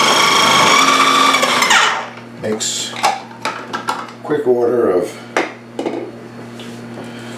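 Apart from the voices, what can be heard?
food processor shredding cabbage for sauerkraut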